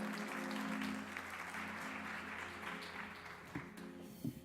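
Audience applause welcoming a speaker to the stage at a community event, a steady continuous patter of clapping at moderate level throughout, easing slightly toward the end with a few sharper claps.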